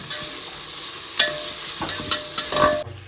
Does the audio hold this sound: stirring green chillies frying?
yes